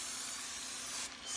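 Cooking spray hisses from an aerosol can into a 9 by 13 casserole dish in a home kitchen, one steady close spray lasting about a second, alone with no talk.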